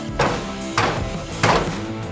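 A hammer strikes three times in a slow, uneven rhythm while work goes on around a ute, each blow close and fairly loud with a short ringing decay.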